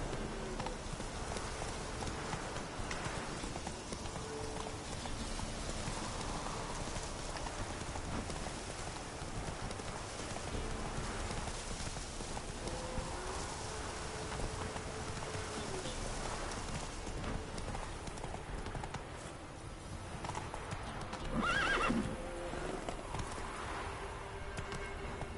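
A horse's hooves clip-clop steadily across ground in the video game The Witcher Wild Hunt, a continuous galloping rhythm beneath ambient outdoor sound, with no clear neigh standing out.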